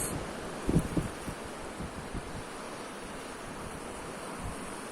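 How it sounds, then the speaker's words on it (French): Sea waves wash continuously in a soft, steady broadband roar, with a few low thumps early on and no voices. "je vais vous laisser écouter le son de la mer, tout doucement, pendant 1 minute"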